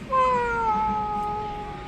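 A single drawn-out meow, a voice imitating a cat, sliding slowly downward in pitch, close and fairly loud.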